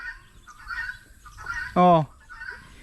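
A single loud, honking bird call rings out briefly, with faint voices and background noise before and after.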